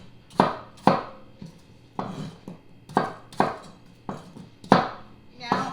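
A knife chops peeled apples into half-inch to one-inch pieces on a cutting board: about nine sharp, close knocks in an uneven rhythm, each with a brief thud.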